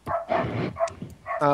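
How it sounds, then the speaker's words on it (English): A pet dog barks in a string of short, loud yips and bow-wows indoors, reacting to a knock at the front door, with a brief whimpering tone at the end. "When someone knocks the front door, he immediately just jumps up and starts barking."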